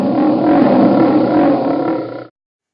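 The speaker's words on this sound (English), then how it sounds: "What sound does the lion make?" A lion roars in one loud, sustained, rumbling bellow lasting about two seconds, then cuts off abruptly into silence.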